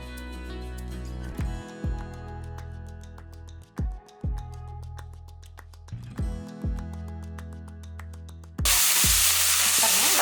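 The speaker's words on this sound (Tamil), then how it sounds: "ஒரு தக்காளி வந்து இதில் நம்ம வதக்கத்து போட்டுக்கலாம் எல்லாம் ஒன்றா சேர்த்து நல்லா வதக்கலாம்" Shallots and tomato sauté in a pan for mutton gravy. A tuneful backing plays with a few dull knocks, then a loud, sudden burst of sizzling takes over near the end.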